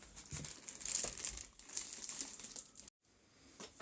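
Packaging of a bladeless fan from Action being handled, crinkly rustling and crumpling close by for a few seconds, then a brief pause.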